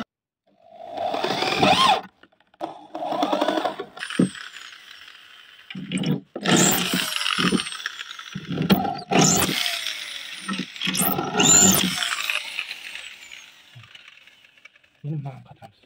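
A power drill drives screws into the shelf of a shoe cabinet being built, whirring in repeated short bursts with pauses between them, close by, while someone speaks between the runs.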